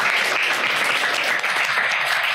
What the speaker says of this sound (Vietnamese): một tràng vỗ tay. Ôi, một tiếng vỗ tay luôn.